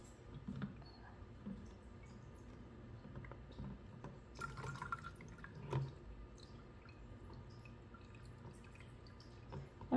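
Water slowly draining and dripping from a Magic Mixies Pixlings toy, with faint scattered drips and small trickles over a quiet room background.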